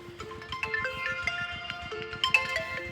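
A mobile phone rings outdoors, a repeating melodic electronic ringtone of bright stepping tones with a steady pulse beneath, moderately loud and clear with no talking over it.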